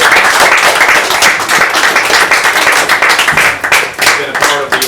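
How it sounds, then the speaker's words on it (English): Audience applause for Kelly Nicholson, longtime manager and coach of the Orleans Firebirds, fills the room at a steady, dense level throughout, with a few scattered voices in the mix. "we can't officially start this without a round of applause for Kelly Nicholson"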